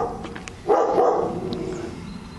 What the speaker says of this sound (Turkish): köpek havlıyor